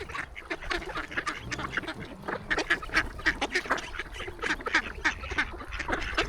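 A flock of ducks quacks busily in rapid overlapping calls at moderate distance, a chattering outdoor chorus with no voices.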